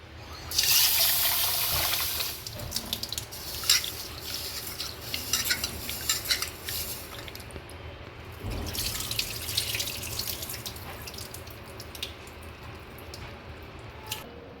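Moth beans being washed in a bowl under a running kitchen tap, with steady splashing water and brief stirring swishes, close and fairly loud, with no talk.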